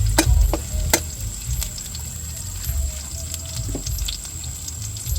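Garlic and onion sautéing in a home-kitchen pan for a bitter-melon stir-fry, a steady close sizzle and crackle with occasional sharp clicks of utensils against the pan, no voices.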